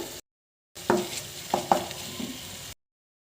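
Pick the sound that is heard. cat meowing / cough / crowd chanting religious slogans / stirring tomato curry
stirring tomato curry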